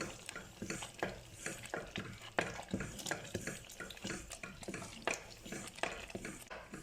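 Thick millet flour kali mixture being stirred in a pot, rhythmic repeated scraping and squelching strokes close up, several per second, no voices.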